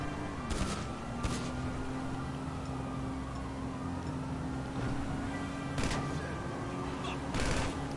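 Gunfire in GTA Online, a handful of sharp broadband shots scattered across a steady engine-like drone, moderately loud and spaced irregularly rather than in a continuous burst.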